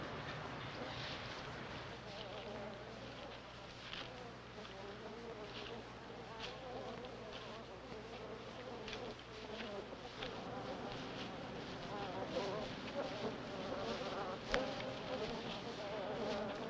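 Bees buzz around wild beehives in a steady, continuous drone that holds for the whole stretch, with a few louder passes close by and some light wind rumble underneath.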